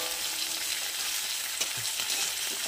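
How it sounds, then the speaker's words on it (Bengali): Tomato paste fries in oil in a pan for a home fish curry and is stirred through it, making a loud, continuous close sizzle with soft stirring scrapes and no voices. "টমেটো বাটা নাড়াচাড়া করে দিলে"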